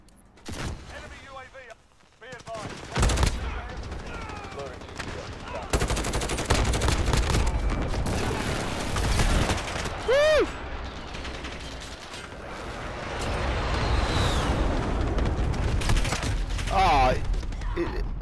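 Gunfire in a shooter video game (Call of Duty with the Grau rifle on the Rust map): rapid automatic bursts and single shots crackle in repeated volleys with mechanical clanks and whooshes, while players talk over the action.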